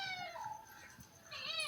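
A domestic cat meows twice, a drawn-out rising-falling mew and then a second one, moderately loud and close against a quiet room with a faint low background rumble.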